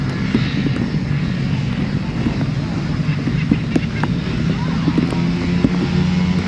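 Several 500cc solo grasstrack motorcycles rev on the start line, a loud, steady, dense engine roar with wind noise on the microphone, sustained throughout without a break.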